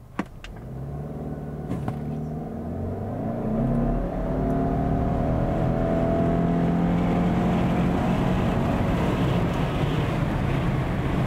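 A 2022 Subaru Outback Wilderness is launched from a brake-torqued start for a 0-60 run on a slight downhill grade. Its engine note climbs steadily and grows loud and sustained through the full acceleration, with no talking.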